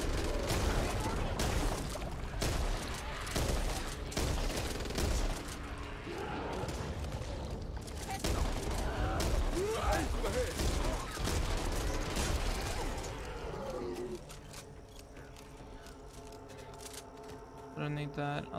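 Shotgun blasts and gunfire ring out in Back 4 Blood's co-op zombie fight, dense bursts of shots mixed with game noise and talk for most of the stretch, thinning to quieter rhythmic clatter near the end.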